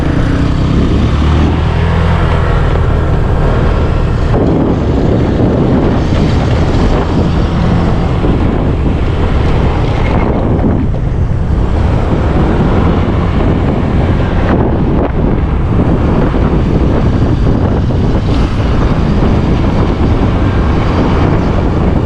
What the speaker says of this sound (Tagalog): Lakas ng dating ng tubig oh.